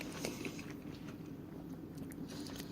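A crunchy-breaded McDonald's chicken nugget is bitten and chewed close up, with a steady soft crunching and mashing, low and muffled, with no talking.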